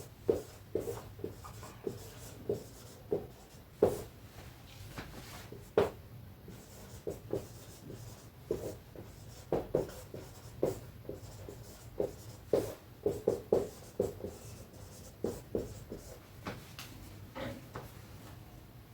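Chalk or pen scratching across a board or paper while working out a maths derivation, with irregular bursts of short scraping strokes and taps close up, steady for the whole stretch with no talking.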